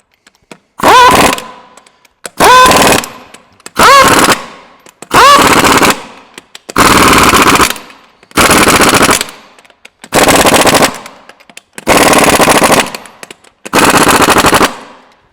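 Repeated impact wrench bursts running lug nuts onto a Jeep Gladiator wheel, eight loud rattling hammering runs of about a second each, separated by brief pauses, close and dry with no talking.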